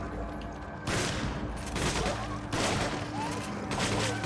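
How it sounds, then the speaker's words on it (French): Shotgun fire in the co-op video game Resident Evil 5: several loud, close blasts with chaotic crackling between them, and some game noise underneath. "Parce que le shotgun dans un espace comme ça sera bien."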